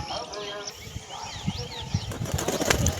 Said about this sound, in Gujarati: તો આપણા બંને કબૂતર ઉડે છે